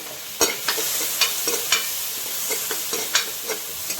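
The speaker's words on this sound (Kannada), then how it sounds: "ಈಗ ನಾನು ಮನೆಯಲ್ಲೇ ಮಾಡಿದ ಒಂಚೂರು ಶುಂಠಿ ಬೆಳ್ಳುಳ್ಳಿ ಪೇಸ್ಟ್ ಶುಂಠಿ ಬೆಳ್ಳುಳ್ಳಿ ಪೇಸ್ಟ್ ಹಾಕಿದೆ" Homemade ginger garlic paste fries in ghee in a pan for a spinach dal, giving a steady close sizzle broken by repeated sharp crackling pops and stirring scrapes.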